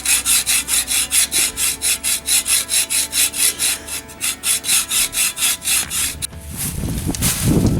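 A long metal bar for a go-kart brake pedal is being cut with a hand saw, giving a steady rhythm of about twenty rasping back-and-forth strokes, close and loud, that give way to a rougher scraping noise at the end.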